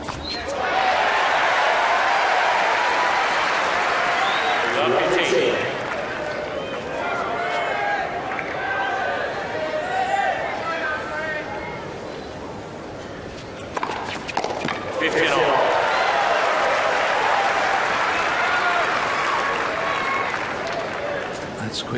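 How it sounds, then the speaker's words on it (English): A stadium crowd at the 2002 Key Biscayne tennis final cheers and applauds loudly and steadily, fading briefly mid-way before swelling again into sustained roaring applause. "Listen to the crowd trying to raise Andre as Federer serves up a break"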